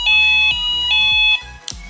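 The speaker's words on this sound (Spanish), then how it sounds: "Esta es la alarma antirrobo." A Delkim fishing bite alarm in anti-theft mode sounds a loud, piercing electronic tone in three long repeated beeps at close range, followed by a short chirp.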